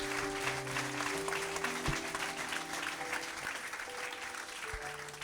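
A church congregation applauding and cheering for the Lord, a steady dense wash of clapping that fills the whole stretch, with a few voices calling out within it.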